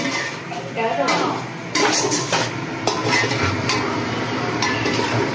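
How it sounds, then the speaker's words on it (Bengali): A spoon stirs and scrapes curry sautéing in a pan, with steady sizzling, repeated clinks against the metal, and voices talking over it at close range. "এখন তরকারিটা জাস্ট কষাচ্ছি"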